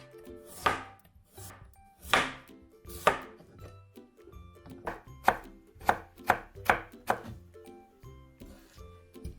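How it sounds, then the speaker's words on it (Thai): Close knife chopping of potatoes on a cutting board, a few spaced strokes and then a quicker run of sharp, even chops. "มันฝรั่งก็หั่นเหมือนกันค่ะ"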